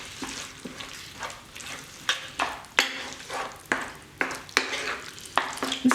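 Plant-based bolognese sauce being stirred in a pan: a series of close scraping, squelching strokes about every half second to second, growing a little louder over the stretch, with a faint sizzle underneath and no talking.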